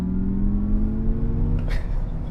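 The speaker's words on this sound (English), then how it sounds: "Now I have set our motor sounds to be in sport mode, so we can actually hear some of the sounds for you guys" An Acura ZDX Type-S electric car plays its synthesized motor sound in sport mode, giving a steady rising hum as it accelerates. It is close and moderately loud, with a brief whoosh near the end.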